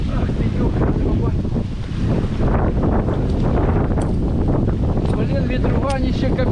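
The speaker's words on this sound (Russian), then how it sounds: "Блин, ветруганище капец." Strong October storm wind buffets the microphone at a flat feeder fishing spot, a loud continuous low roar with gusty surges throughout, and a voice briefly heard beneath it.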